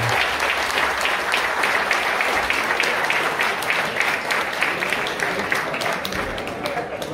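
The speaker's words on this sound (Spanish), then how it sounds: "vamos a darle un fuerte aplauso porque se lo merece." Sustained crowd applause at a summer golf championship gathering in Llanes, a dense, even wash of many hands clapping for several seconds, with voices mixed faintly underneath.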